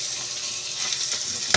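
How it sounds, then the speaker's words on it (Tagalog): Ground beef sautéing in a pan for spaghetti sauce, a steady close hiss of frying with a louder spatter or stir near the end, no voices. "At nag-ikisa na tayo ng beef giniling."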